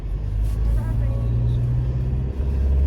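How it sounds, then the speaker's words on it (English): A garbage truck reversing up a residential road, its heavy engine rumbling loud and close in a steady low drone, with a slight shift near the end. "I've got a garbage truck reversing up the road."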